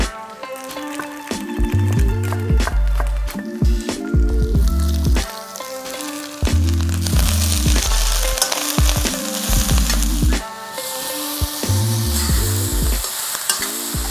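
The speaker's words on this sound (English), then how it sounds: "Stir fry that for a while, get my kimchi sauce in, and then we'll stir through our cooked rice." Rice and kimchi sauce stir-frying in a hot pan: steady loud sizzling, with a spatula scraping and clattering against the metal in irregular bursts throughout.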